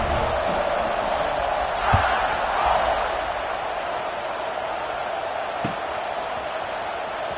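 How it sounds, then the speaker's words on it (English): A stadium crowd in a Michigan vs Alabama college football video game keeps up a continuous loud roar, with a couple of brief thuds and small swells. "this crowd is buzzing after that last score"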